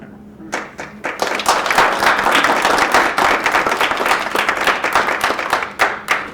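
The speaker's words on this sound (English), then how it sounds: "Carl Acton, bringing the applause" A room at a school board meeting breaks into steady, dense applause from many hands. It starts a moment in, holds loud and even for several seconds and thins slightly near the end.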